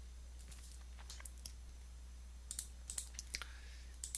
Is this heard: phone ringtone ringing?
no